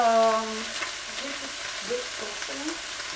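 Chicken pieces frying in a pan, giving a soft steady sizzle with faint clinks and a brief tone at the start, quiet and alone.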